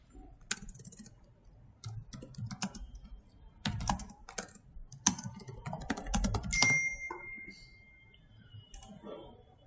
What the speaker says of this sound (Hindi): देखो मैं लिख रहा हूँ लोअर फील्ड